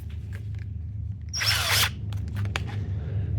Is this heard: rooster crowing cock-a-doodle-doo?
no